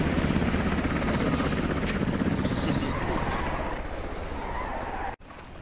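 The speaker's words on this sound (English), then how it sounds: "Oh, enemy chopper is here." An enemy helicopter arrives in the military video game Squad: a loud, steady rotor and engine roar fills the scene throughout, with a brief dropout just before the end.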